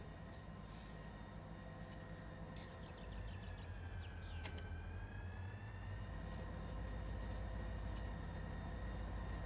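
Run 8 train simulator game with a train running near Cresson: a steady low rumble of rolling wagons under high squealing, sliding tones like wheel or brake screech, with a few sharp clicks, no voices.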